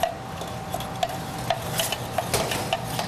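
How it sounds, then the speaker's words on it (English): A spoon stirring sausage cake mixture in a bowl, steady faint scraping with a soft tick every half second or so as the utensil knocks the side, over a light background hiss. "I'm going to stir it a little bit here."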